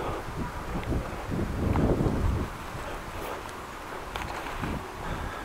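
Gusty wind buffets the microphone on a sidewalk walk through a residential neighbourhood in Groningen, a loud rumbling roar that swells and eases across the few seconds, with no voices.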